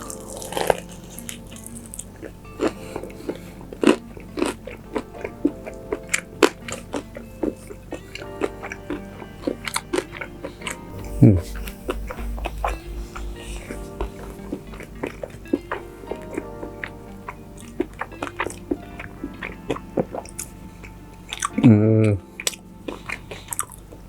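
Close-up crunching bites and chewing of KFC Original Recipe fried chicken come as irregular crisp clicks and wet mouth sounds, with quiet pauses between bites and a brief stretch of talking.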